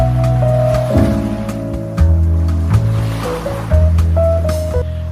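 Sea waves roll in on Ezhara Kizhunna beach in Kannur, a steady close wash of surf with periodic swells and crashes under a sustained low tonal hum.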